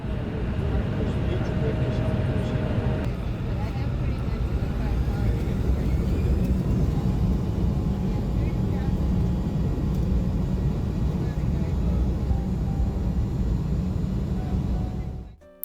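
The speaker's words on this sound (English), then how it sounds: "we were ready for takeoff" Steady, loud roar of an American Airlines airliner's engines during takeoff, heard from inside the cabin, a continuous broadband rumble that holds for the whole stretch before cutting off at the end.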